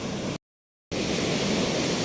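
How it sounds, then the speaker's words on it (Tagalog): Strong sea waves at a beach roar as a steady, loud wash of surf, broken by a brief gap of silence before the rushing noise resumes. "oh my goodness, ang lakas ng alon guys."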